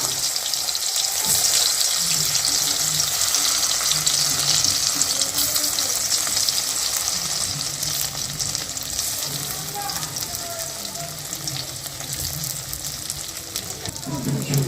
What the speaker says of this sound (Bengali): তেল গরম হয়ে গেছে এরপরে একে একে ঢ্যাঁড়সগুলো ছেড়ে দেওয়া হবে